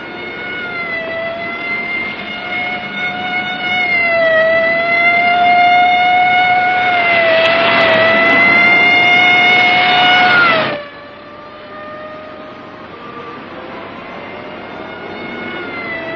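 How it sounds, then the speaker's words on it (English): A loud wailing siren holds a steady, slightly rising tone, swelling for several seconds, then drops abruptly and continues at lower volume. "Lay on the siren. Give it everything."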